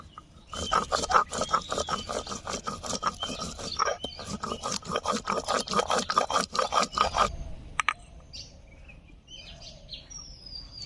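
Dried red chillies and spices are ground outdoors on a stone with a hand grinder in rapid rhythmic rasping strokes that stop abruptly, leaving birds chirping in the open air.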